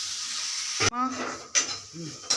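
Pirandai, adamant creeper, sautéing in a pan: a steady close sizzle runs throughout, broken by a few sharp stirring scrapes and clatters of the utensil against the metal, with a short voice-like sound in the middle.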